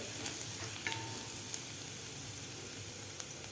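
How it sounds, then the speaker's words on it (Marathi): Garlic fries in a pan with a soft, even sizzle, punctuated by a few light clicks and scrapes of stirring, quiet and close. "लसूणसुद्धा आपल्याला व्यवस्थित फ्राय करून घ्यायचं आहे"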